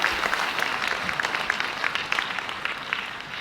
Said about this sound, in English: a big round of applause again there for those wonderful videos and for Gordon